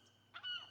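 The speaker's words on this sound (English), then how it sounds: "Seagull." A seagull calls once near Monterey Bay, a short honking cry over a steady low background hum.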